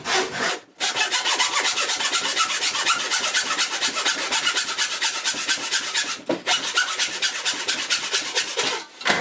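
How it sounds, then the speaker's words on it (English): A sharp hand saw cuts through a wooden board for a box, its steady rasping strokes loud and close, running continuously with two short pauses. "a good sharp saw won't fight you"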